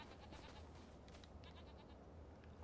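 Goats on a small farm in Farming Simulator 25 bleat faintly in the background, a few soft cries over a low, steady ambient hum.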